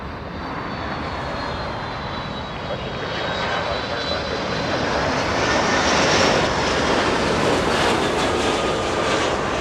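A Delta airliner passes at Los Angeles International Airport, its jet roar a steady broadband rumble with a faint whine that builds slightly toward the middle and stays continuous throughout.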